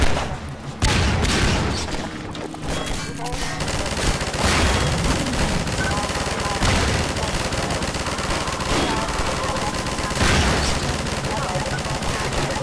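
Rapid, dense gunfire and booming blasts fill a Half-Life 2 Episode 3 game scene, loud and continuous with repeated bursts and heavy thumps, layered over busy background action and occasional speech.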